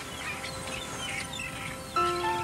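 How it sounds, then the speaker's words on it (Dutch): Migratory birds chirp and call faintly at a distance over a steady background hiss. Near the end, a clearer and louder tonal call rings out. "Hé, daar heb je die trekvogels weer."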